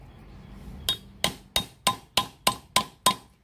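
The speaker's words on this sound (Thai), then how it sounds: "ทุบตรงรอยต่อ" Old rusty pliers struck at the joint with a hammer, eight sharp metallic blows in a steady rhythm, close and loud.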